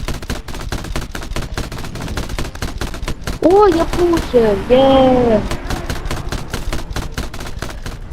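Rapid, steady bursts of automatic aircraft gunfire in War Thunder run throughout, loud and close, while someone briefly shouts excitedly in the middle.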